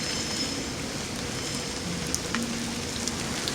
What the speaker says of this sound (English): only the patient rain against the glass